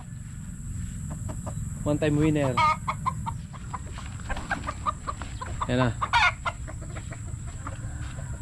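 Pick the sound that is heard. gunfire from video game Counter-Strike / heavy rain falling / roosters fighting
roosters fighting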